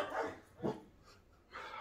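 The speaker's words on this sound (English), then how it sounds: "there's all type of dogs out here." Dogs bark outdoors in a few short, faint bursts, with quiet gaps between them.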